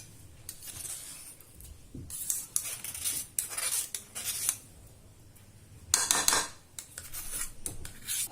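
A metal spoon stirs and scrapes yogurt mixed with crushed spices in a bowl, giving repeated bursts of clinking and wet rubbing with short pauses between strokes, close and fairly quiet.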